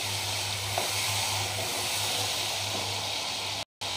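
Tomatoes sizzle steadily in a hot pan while cooking for rajma: a close, even hiss and crackle of frying with no voices, cut off briefly by a short silence near the end.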